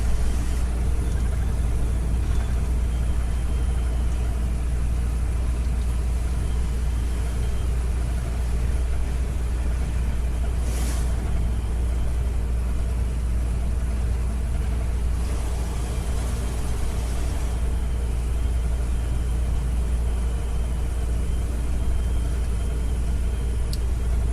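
Brick-laden truck climbing Ilgaz mountain, its heavy engine droning in a steady, loud low rumble heard from inside the cab, with no talk.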